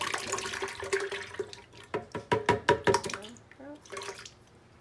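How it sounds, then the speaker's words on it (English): Liquid flan ingredients pour and splash into a blender in short glugging bursts, fairly close, with a brief faint voice near the end. "Now we're going to be pouring the following ingredients into the blender."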